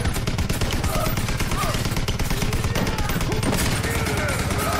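Rapid automatic AK rifle fire in the video game Beyond: Two Souls, a dense, continuous rattle of shots at steady loudness with crashing impacts, and voices speaking faintly underneath.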